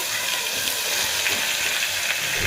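Onions and garlic frying in a pan of hot oil while making Ramzan nombu kanji, a steady bright sizzle that stays close and loud, with no voices.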